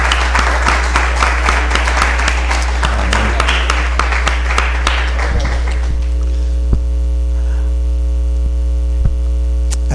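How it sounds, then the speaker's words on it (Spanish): Church congregation applauding during a worship service: a crowd's clapping rises briefly, then dies away after a few seconds, all over a loud, constant electrical hum that continues alone afterward. "Un aplauso a su Señor."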